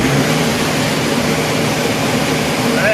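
An Antonio Carraro TR7600 Infinity tractor engine runs at raised revs around 2300 RPM, a loud, steady, broadband drone with no breaks.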